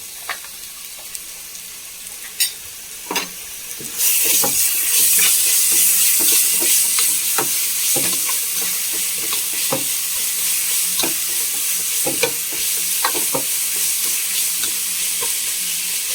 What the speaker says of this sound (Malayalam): പച്ചമണം പോണവരെ നന്നായി വഴറ്റി കൊടുക്കാം.